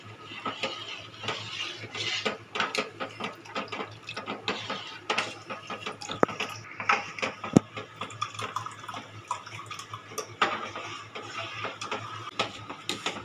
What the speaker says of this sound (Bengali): এরকম নেড়ে নেড়ে একটুখানি দুধটাকে গাঢ় করে নেবো আমি